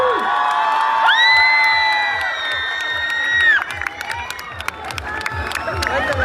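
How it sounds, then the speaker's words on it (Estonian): A crowd at an outdoor town-day event in Paldiski claps and cheers with whoops and shouts, while a loud amplified voice talks over it and the noise stays lively throughout. "Tehke üks aplaus!"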